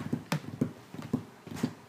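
A voice imitates horse hoof beats with a steady, rhythmic clip-clop pattern of about eight soft knocks, close and moderately quiet, with no other talk.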